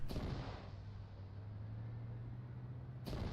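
A big explosion in the Arma 3 video game bursts at the start, followed by a low, sustained rumble with a steady hum, then a second sharp blast near the end.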